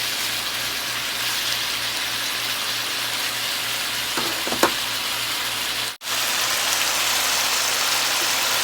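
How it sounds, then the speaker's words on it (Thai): Aromatics and ginger stir-fried in a pan over a weak stove flame give a steady, soft sizzle that hardly changes, with a couple of faint clinks partway through and one very short dropout. "คั่วพวกนี้ปนไปให้หอม"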